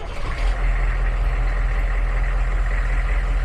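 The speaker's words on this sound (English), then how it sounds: "we're gonna start the engine, and there will be some noise." A 1987 AM General M998 HMMWV diesel engine cranks briefly and catches, then settles into a loud, steady low rumble close by.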